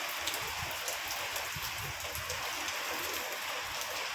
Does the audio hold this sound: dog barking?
no